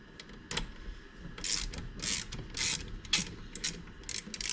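A ratchet wrench tightening a part on a Ford Model A transmission, clicking in repeated bursts of quick ratcheting strokes, close and fairly loud, with no talk.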